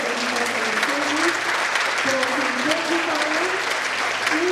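Sustained audience applause fills a youth awards ceremony in Slovenske Konjice, a dense, even wash of many hands clapping with faint voices and a brief tonal sound rising underneath.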